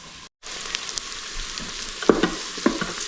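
Onions sizzle steadily in a hot pan for a Napoli-style tomato sauce, a dense crackling hiss with a few sharper pops and stirring scrapes, close and alone without any voices.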